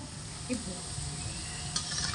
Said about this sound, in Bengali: লো টু মিডিয়াম আঁচে রেখে বড়াগুলোকে ভাজছি।